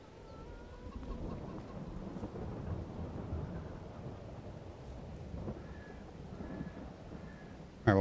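Thunder and steady rain from a storm in the farming game Farming Simulator 22, a broad rumbling wash of rainfall with low rolling thunder throughout, loud and close, without speech.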